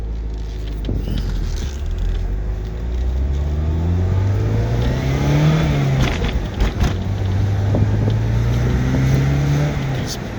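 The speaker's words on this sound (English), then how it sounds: "Feel the turbo kicking in there." A turbocharged car accelerating from inside the cabin, engine note climbing in steady sweeping rises through the gears, loud and continuous, with a person speaking over it.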